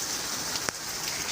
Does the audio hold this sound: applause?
no